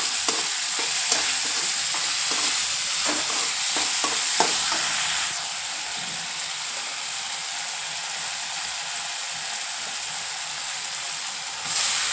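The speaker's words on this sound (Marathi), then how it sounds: "तेलात डाळ परतले ना अजून मस्त लागते" Lentils (dal) sautéing in hot oil for a dill (shepu) vegetable dish, a strong steady sizzle with repeated spatula scrapes and stirs for the first few seconds, then an even frying hiss continues alone.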